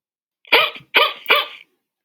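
An app plays a dog bark sound effect: three quick, loud barks in a row, close and clean, with no talking.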